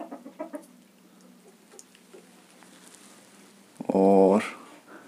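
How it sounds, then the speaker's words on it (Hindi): Two hens sit together to lay eggs in a tin-shed animal house in a village, giving a few soft short clucks early on, then one loud, drawn-out squawking cackle close by before settling again. "ये आप देख सकते हैं दोनों ही मुर्गियाँ यहाँ पर बैठी हुई हैं एक साथ अंडे देने के लिए"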